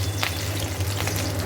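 Egg fritters, plain with no onion, fry in a pan of oil with a steady, close hiss and soft crackling throughout, no voices.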